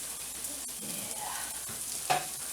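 Onions fry in butter in a pan with a steady, close sizzle, broken by a few soft stirring knocks and a sharper clack near the end.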